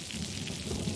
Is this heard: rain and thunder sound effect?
yes